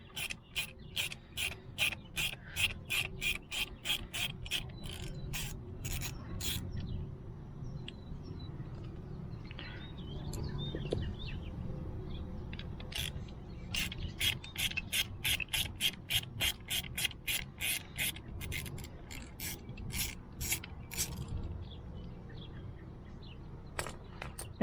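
A T25 Torx screwdriver ratchets out screws on a BMW E30 window motor, with quick repeated clicking bursts close up, a quieter pause in the middle, then more runs of clicks.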